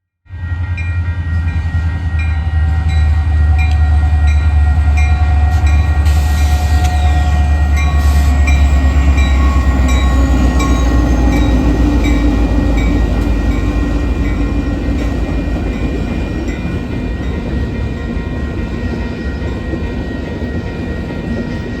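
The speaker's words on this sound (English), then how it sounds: "another A491 with yet again another CSX duo, the leader being a CSX SD70 Mace, and the trailing unit being a Dash 8" CSX freight train led by an SD70 Mace with a Dash 8 trailing, passing close with a loud, sustained diesel rumble and rolling wheel noise, with tonal horn-like lines, no voices.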